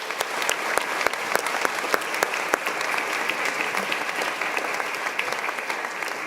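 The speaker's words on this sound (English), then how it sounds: "Let's give them a round of applause as well." An auditorium audience at a commencement ceremony claps for the musicians, a steady, fairly even round of applause from a crowd that holds for several seconds without cheering.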